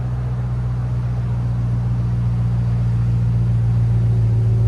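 A 2022 Ram TRX on its stock exhaust idles with a deep, steady, loud engine rumble that holds constant throughout, with no speech over it.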